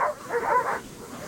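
Sled dogs about to mush let out a short, close bark-like yelp with a whiny edge, a single burst of excited canine noise.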